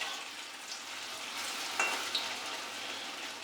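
Banana peel fritters frying in hot oil, a steady close crackling sizzle with a couple of brief sharper pops and scrapes near the end.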